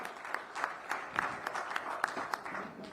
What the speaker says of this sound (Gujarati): ખૂબ તાળીઓ સાથે આપણે આ સૌ ડિપાર્ટમેન્ટની કામગીરીને બિરદાવીએ